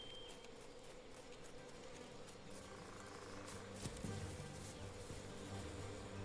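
Bees hum in a video game, a faint steady insect drone blended with background noise, holding even throughout with a slight swell toward the end.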